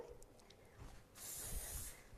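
A soft hiss of an aerosol cooking spray starts partway through and continues steadily, close and fairly quiet, in a kitchen while making sausage rolls.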